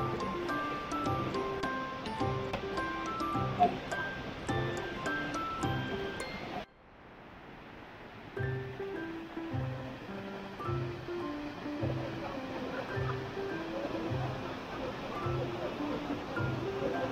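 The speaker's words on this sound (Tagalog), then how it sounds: "nandito tayo sa Shifen Waterfalls" Rushing water at Shifen Waterfalls in Taiwan roars as a continuous broadband wash, with a voice talking over it early on, then the falls carry on more openly after a brief dip.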